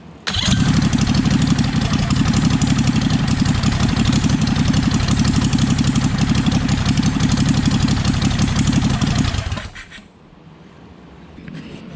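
Small engine on a BSV23 fitted with a ReDrive, running steadily and loud up close for about ten seconds with a constant buzzing drone, then cutting off abruptly into quiet background.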